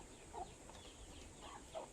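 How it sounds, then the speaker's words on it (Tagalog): Hen clucking outdoors near a wooded spot, heard as a few soft, short clucks around the start, middle and end over low background noise. "Uy, may narinig ang manok."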